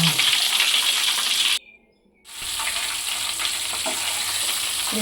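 Tempura prawns sizzle and crackle steadily in hot oil, a loud, close frying hiss that cuts out for a brief silent gap before resuming at full strength.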